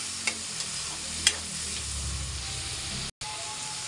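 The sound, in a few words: tomatoes being sautéed in a pan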